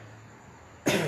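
A single short, harsh cough bursts out close to the microphone at the end of a quiet moment during a Bible study talk.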